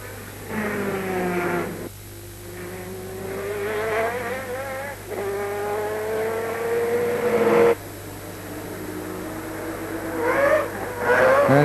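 Mazda 787B rotary race car at the 1991 Le Mans 24 Hours, its engine screaming through repeated rising gear pulls with brief drops between shifts, loud and close.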